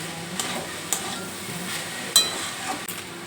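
Meat is stirred with vegetables and chili sauce in a pan, with soft sizzling under several sharp utensil scrapes and clinks at irregular intervals, close and without talk.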